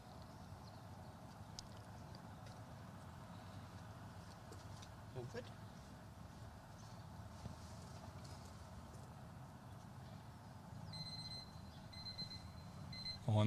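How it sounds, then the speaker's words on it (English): Two short electronic beeps sound near the end, marking the 20-minute time limit at an under-21 golf croquet singles championship in New Zealand, faint over steady outdoor background noise. "we've just heard a couple beeps there. That'll be the 20-minute time limit coming into play"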